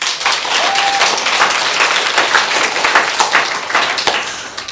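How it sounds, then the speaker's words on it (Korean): Church congregation applauding during a Korean pastor's sermon lecture, a dense steady wash of clapping from a large crowd lasting throughout, fairly loud and close. "박수."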